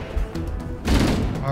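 Gunfire from the Halo video game during the Assault on the Control Room level, a sudden loud burst of shots erupting partway through and continuing to the end, with a voice talking over the game sounds.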